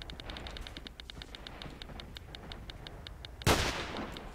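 A single loud gunshot in the video game S.T.A.L.K.E.R. Shadow of Chernobyl, one sharp blast breaking out after a stretch of quiet ambient noise with a steady faint ticking, followed by a decaying tail.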